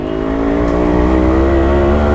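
A Yamaha RX 100 motorcycle engine revving steadily right after restarting, a loud, close two-stroke drone holding a constant buzzing pitch.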